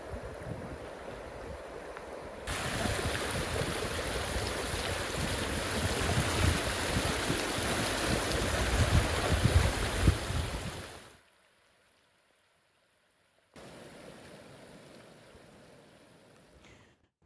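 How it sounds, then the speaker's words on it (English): Rainwater runoff rushes through wadis in Oman with a dense, steady roar of flowing water. It cuts out briefly, then returns more quietly. "Rainfall was reported across a number of villages and towns in the governorate, leading to runoff in several wadis and water channels."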